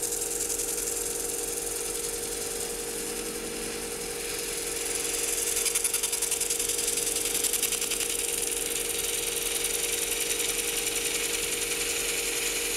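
A sheet of 320-grit sandpaper is worked against a spinning wooden piece, giving a steady, close whirring rasp with a faint mechanical hum that rises slightly midway and holds constant to the end.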